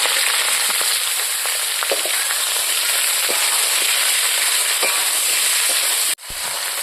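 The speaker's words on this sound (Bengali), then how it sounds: "এখন আমি বেগুনগুলো ভাজি নেব" Eggplant slices frying in hot oil in a wok, a loud, steady, dense sizzle and crackle that runs unbroken until it abruptly drops away near the end.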